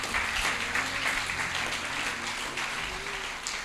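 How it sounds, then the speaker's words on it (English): A church congregation claps together in a lively, sustained burst, the hands blending into an even patter that runs for a few seconds. "Clap for them. Clap for them."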